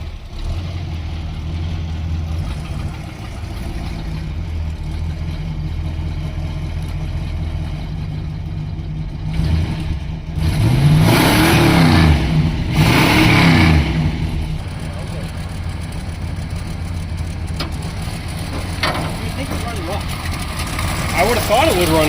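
A Mopar barn find car idles steadily up close, then revs hard twice in quick succession before settling back to idle, with people talking around it.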